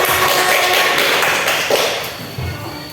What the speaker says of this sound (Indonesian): Kita beri aplaus dulu buat kita semua.